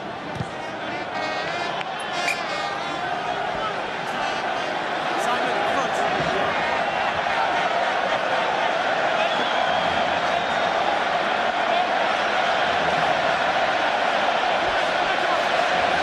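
A packed rugby stadium crowd at a 2004 France versus New Zealand test match gives off a steady, dense roar as France sets up a lineout about five metres out, rising slightly and holding loud throughout.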